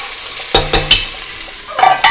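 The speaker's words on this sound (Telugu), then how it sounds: "ఇందులో ఇప్పుడు దీనికి సరిపడా ఈ ఆయిల్లో ఫ్రై అవ్వాలి." Coriander-cumin powder masala for biryani frying in oil in a pan. Three sharp, close scraping strokes of a spoon come in quick succession, then a pause, then another short burst of stirring over a faint sizzle.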